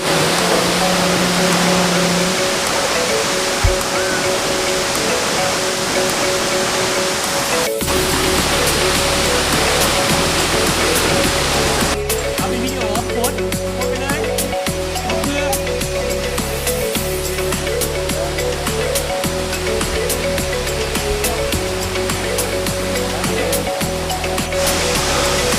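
Phu Pha Man waterfall roars as a loud, continuous rush of falling water, with deeper rumbling surges partway through and no talking.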